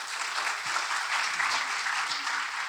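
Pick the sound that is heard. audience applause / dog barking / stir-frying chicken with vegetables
audience applause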